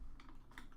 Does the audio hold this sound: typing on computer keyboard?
yes